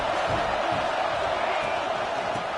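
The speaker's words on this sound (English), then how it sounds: "This crowd bringing the energy and noise early." College football stadium crowd roars in a steady, dense wall of cheering and shouting, loud and unbroken throughout.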